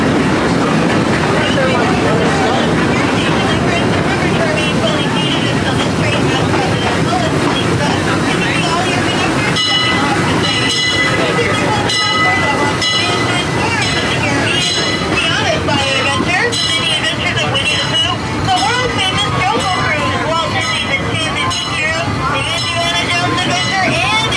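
A Disneyland Railroad train rolls along the rails with a steady rumble and rhythmic clatter, while a ride announcement voice talks over it.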